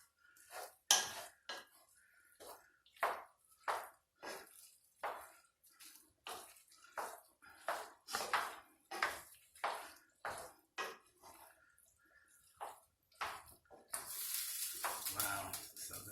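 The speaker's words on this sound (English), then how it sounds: "now I'm just going to mix it up with the rice" Shrimp and chicken fried rice being stirred and tossed in a pan, with steady rhythmic scraping and clanking of a utensil against the metal, close and loud, ending in a burst of sizzling.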